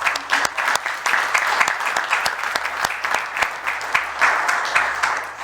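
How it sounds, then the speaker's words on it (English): Steady round of applause from an audience at a Grand Forks city council meeting, many hands clapping continuously and fairly close, with no talk over it. "Why don't we give Mark a round of applause for his service."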